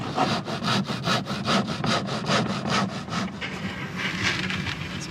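A hand saw cuts through the corner of a wooden board for a simple car camper. It makes a quick, even run of close rasping strokes that loosens into irregular rubbing toward the end.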